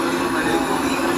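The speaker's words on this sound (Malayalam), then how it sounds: "ആ ഒരു ഭാഗത്തേക്ക് നമുക്ക് വേറൊരു ട്രെയിൻ പാസ് ചെയ്ത് പോകുന്നതാണ് കേട്ടോ." A train passes close by near Shoranur on Indian Railways, a steady, loud rolling rumble of wheels and carriages with no voices over it.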